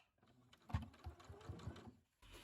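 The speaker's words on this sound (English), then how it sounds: "what that looks like is back stitching a little bit and then going forward like this" A sewing machine stitching a corset duster, running briefly in reverse for a back stitch and then forward: a quiet, soft mechanical whirring in short bursts, close by with no talk.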